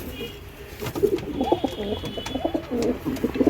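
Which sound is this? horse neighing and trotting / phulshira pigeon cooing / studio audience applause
phulshira pigeon cooing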